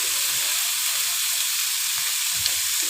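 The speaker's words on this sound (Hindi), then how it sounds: "डाल देंगे चिकन, मैंने एक प्याली ले ली थी। इसको भी भून लेना है आपने थोड़ा सा।" Chicken frying in a pan with garlic, an even continuous hiss of sizzling oil with faint low clatters of stirring underneath, heard close with no talk.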